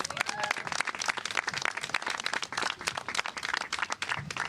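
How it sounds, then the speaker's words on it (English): A crowd at a civic gathering with a borough president claps in brisk, continuous applause, dense and fairly close, holding steady for several seconds. "Jill, give her a big round of applause"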